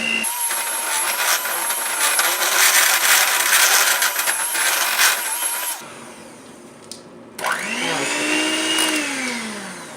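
A blender whirs loudly as it mixes quesadilla batter with grated Parmesan cheese, a steady high motor whine that stops, then briefly restarts and winds up again.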